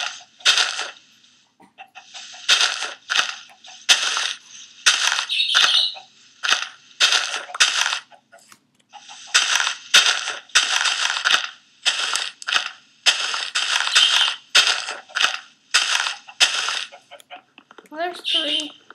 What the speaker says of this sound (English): Alright, let's destroy this tree.